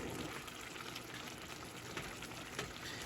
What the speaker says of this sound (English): Kind of hear it sizzling in there.